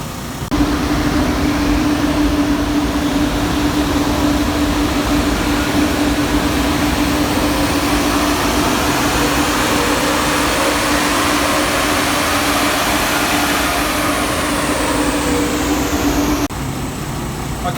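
A Toyota Land Cruiser 100 Series engine roars at full load on a dyno during a power run, a loud steady drone climbing gradually in pitch before cutting off near the end.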